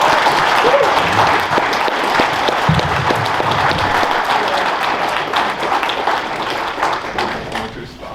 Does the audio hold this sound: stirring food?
no